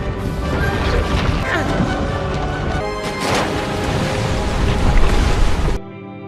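A loud, sustained crashing and rumbling of a wall breaking apart under a flood of food, debris tumbling for several seconds before cutting off abruptly.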